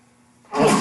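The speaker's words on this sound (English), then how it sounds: "it's a bad time for a series of sneezes" A single sudden sneeze bursts out after a near-silent moment, loud and close, ending the brief clip.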